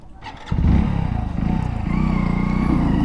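A Hero Splendor Plus BS6 motorcycle engine picks up with a sharp rise after a brief low idle, then settles into a steady, close, throbbing single-cylinder hum while riding.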